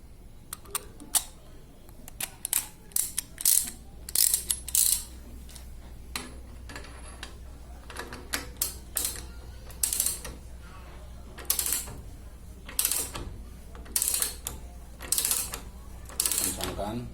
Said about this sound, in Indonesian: Tapi kalau punya ratchet lebih enak menggunakan ratchet.